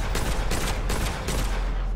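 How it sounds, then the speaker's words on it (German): Six-shot revolver firing in the Witchfire video game, a series of loud, closely spaced shots in quick rhythm. "Also ein Revolver. 6 Schuss Magazin."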